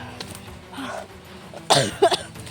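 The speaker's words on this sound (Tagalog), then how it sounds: "Ay, inuubo din ako." A person coughs near the microphone, a short harsh burst followed by a couple of smaller coughs, against strong wind noise outdoors.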